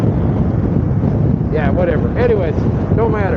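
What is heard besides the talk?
wind blowing into the microphone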